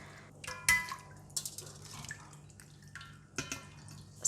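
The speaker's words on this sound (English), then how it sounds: "pull out the prawns by their whiskers and place them in the colander to remove the excess water" Excess water drips and trickles from raw prawns resting in a kitchen colander: quiet, close, irregular droplets and small splashes with no talking.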